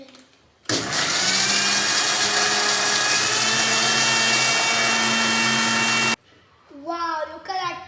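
Blender whirring steadily as it blends fresh fruit for summer popsicles, a loud continuous motor roar lasting about five and a half seconds before cutting off abruptly, followed by brief speech.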